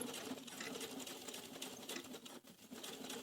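A sewing machine stitches fabric for baby dungarees, a continuous close whirring hum with a steady mechanical patter that dips briefly before resuming, no voices.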